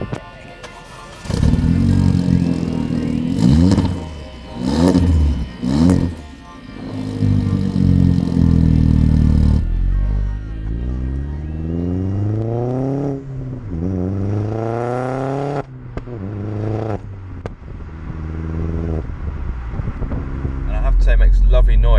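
A Vauxhall Astra VXR engine pulling in third gear, a loud close rising drone that sweeps up in pitch several times, with a voice talking over it.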